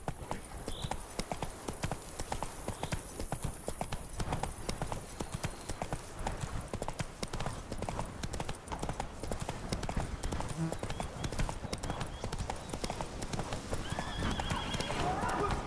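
In the Witcher 3 video game, a horse named Roach gallops with rapid, rhythmic hoofbeats throughout and gives a brief neigh near the start, loud and close, while game voices talk over it.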